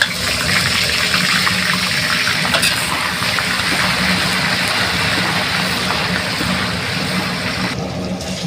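Ginger-garlic paste, heavier on garlic, sizzles in hot oil in a wok while fish tarka is cooked: a loud, steady, broad hiss that holds evenly for the whole stretch with no voices.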